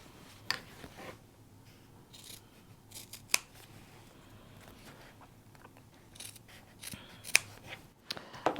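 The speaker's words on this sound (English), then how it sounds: "I'm just going to cut right on my drawn lines" Scissors snip through fabric along drawn lines, a close series of crisp, irregular cuts with short pauses in a quiet room.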